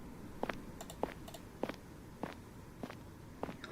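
Footsteps in the video game It Gets So Lonely Here crunch at a steady walking pace over a soft background hiss, each step faint but distinct, with no talking.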